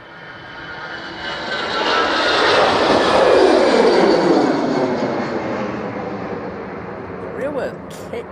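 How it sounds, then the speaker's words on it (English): EasyJet Airbus A319 taking off from Manchester Airport, a loud jet engine roar swelling to a peak and slowly fading as the aircraft rolls and climbs, heard from outdoors at a distance. "And the EasyJet to Milan is now on the roll."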